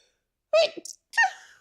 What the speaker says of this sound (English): I'm so sorry for sneezing on camera.